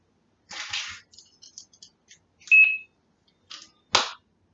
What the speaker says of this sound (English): Heard the beep. It's armed.